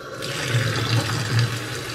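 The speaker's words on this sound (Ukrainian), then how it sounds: "Що ми робимо? Ми вмикаємо воду" Water runs from a kitchen tap to rinse away salad scraps, a steady splashing stream with a low, gurgling hum as it hits the sink.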